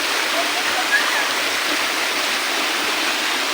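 Rushing water pours steadily at Esteban Falls, a loud, constant broadband roar of the waterfall that fills the whole clip without pause.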